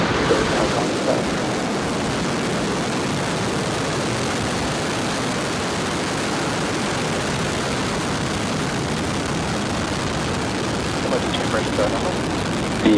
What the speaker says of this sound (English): ignition, and liftoff. Go Falcon, go Telkomsat.